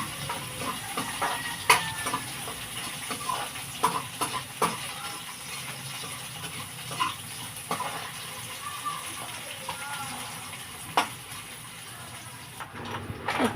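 Onion being stirred and sautéed for a Filipino mussel dish, a soft continuous sizzle with scattered clicks and scrapes of a utensil against the pan, fairly quiet and close.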